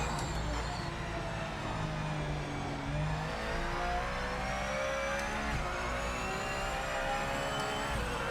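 A race car engine roars steadily in the video game Project Motor Racing, a continuous, moderately loud drone with rising and falling pitch as the car accelerates through gear changes on a lap.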